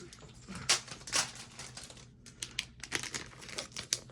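Sheets of crinkly vellum paper from a floral scrapbooking kit being handled up close, giving repeated soft crackles and rustles in uneven bursts with a brief pause midway, quiet and without talk.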